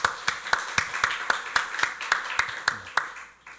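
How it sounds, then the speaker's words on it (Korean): A church congregation at a Sunday worship service claps in unison, about a dozen sharp, evenly spaced beats in a steady rhythm that fade slightly at the end. "박수로 하나님께 영광 돌리겠습니다"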